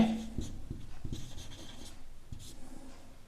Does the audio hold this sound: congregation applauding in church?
no